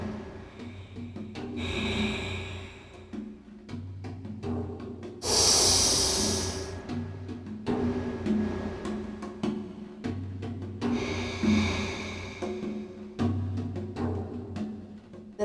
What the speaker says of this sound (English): Inhale through the left. Hold. Exhale through the right.